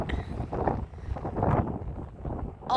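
Strong wind buffets the microphone in Nebraska during a wind advisory, a loud continuous low roar with rising and falling gusts across the whole clip.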